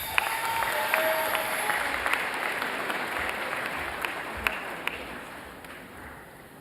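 Audience applause at a Mount Mary University spring commencement for master's degree recipients, a sustained wash of many hands clapping in a large hall, with a few sharper individual claps standing out and the sound tapering slightly toward the end.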